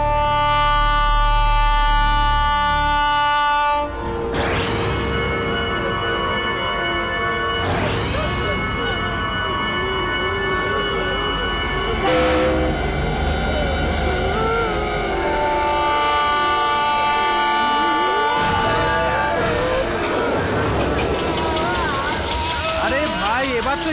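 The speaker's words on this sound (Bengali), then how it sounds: "এই 2 মিনিটের মধ্যে ট্রেন আসবে" A train rumbles past with a long, loud horn blast repeating several times, close and dominant over the scene, while voices speak intermittently beneath the rolling wheels.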